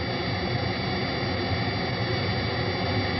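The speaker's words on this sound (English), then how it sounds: "Let's listen to how this jet noise can be altered when parts of it are filtered or removed." Steady synthesized jet engine roar from an electronic music synthesizer, a dense continuous broadband rush held at constant loudness throughout with no voices.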